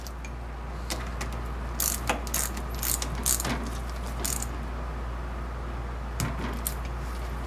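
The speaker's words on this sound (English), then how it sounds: "with the torque wrench on the nut side, torque the connections again until we get to the required torque value" A torque wrench ratchets on the nut of a battery intercell connector, giving short bursts of quiet, sharp clicks separated by pauses in a still room.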